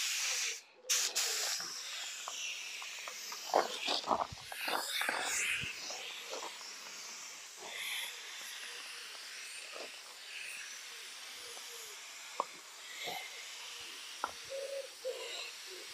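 A spray gun hisses steadily as paint goes onto the boot face of a Ford Mondeo Mk3 outdoors, a continuous near airy spray with brief pauses and a few clicks and knocks, no talk.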